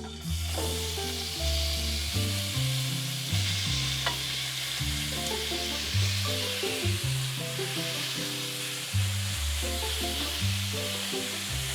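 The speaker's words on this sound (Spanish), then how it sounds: "Ya tengo el sartén bien calientito y le voy a poner aceite. Vamos a poner a freír la carne." Meat frying in hot oil in a frying pan, a steady, continuous sizzle close by under a loud background of music, with no voices.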